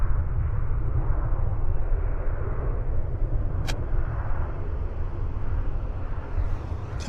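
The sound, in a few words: Airbus A321 departing from Vancouver Airport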